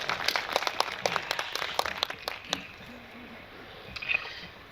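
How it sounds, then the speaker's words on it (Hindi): Seminar audience at an annual dealers' event claps in a brief burst of scattered applause that fades after a couple of seconds, with a faint sound near the end. "बजा दें तालियां शेख साहब के लिए"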